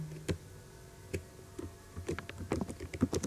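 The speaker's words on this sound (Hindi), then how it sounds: "ये आप लोग यहाँ टाइप करें" Typing on a computer keyboard, irregular soft key clicks that start sparse and grow into a busier burst of keystrokes, close and quiet with no talking.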